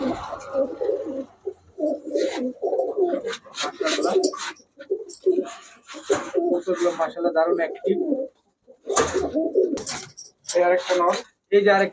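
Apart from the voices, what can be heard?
male Giribaj pigeons cooing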